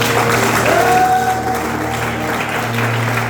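A church congregation applauds to acclaim God during a sermon, steady loud clapping from a large crowd that continues evenly throughout, with no voices over it.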